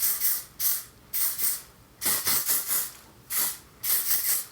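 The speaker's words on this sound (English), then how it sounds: "I'm going to spray them again with this hairspray" Aerosol hairspray misted onto curled short hair, sharp close hissing bursts in an uneven rhythm, about six separate sprays with short pauses between them.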